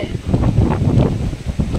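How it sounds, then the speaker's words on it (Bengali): Strong wind buffets the microphone on Tajpur beach at sunset, a steady low roar with gusty swells and no clear voices. "এত হাওয়া দিচ্ছে"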